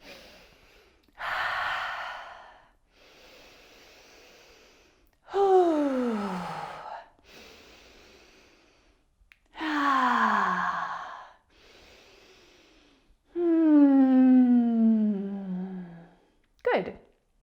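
Several deep, slow breaths alternate with pauses: long inhales and forceful, sighing exhales, one ending in a snort-like blow.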